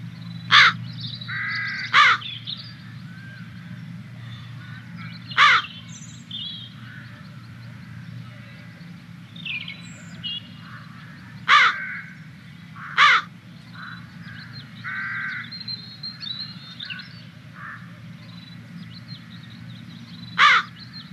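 Crows caw in sharp, spaced single calls over a steady low background rumble, several birds calling at irregular intervals from a moderate distance.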